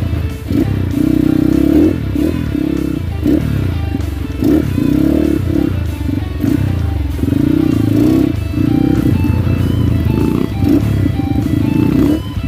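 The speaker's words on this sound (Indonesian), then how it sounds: "Depan sendiri motor Minerva, yang kedua motor Tiger, yang ini CRF Mega Pro Mono" Trail motorcycles riding off-road, including a Minerva, a Honda Tiger and a CRF Mega Pro Mono, with engines rumbling and revving close by in uneven surges, plus clatter over rough ground.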